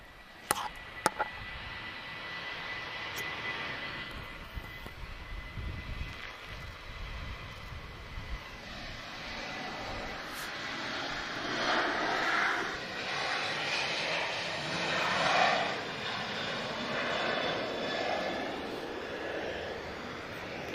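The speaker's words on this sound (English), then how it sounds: "our 767 from Star Air, he's just taxiing all the way to the end." A Star Air Boeing 767 taxis at Lisbon Airport, its distant jet engine whine and rumble rising and falling gradually, with a few sharp clicks early on and no voices.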